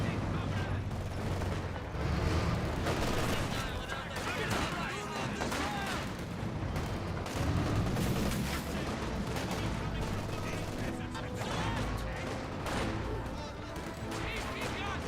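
Gunfire and explosions from a Company of Heroes 2 battle with grenadiers and conscripts, a dense continuous roar of shots and blasts at steady loudness, under a commentator's voice.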